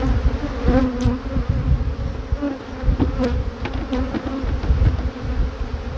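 A swarm of honey bees, a dense continuous buzzing hum with individual bees droning close past, steady and fairly loud outdoors with no talk.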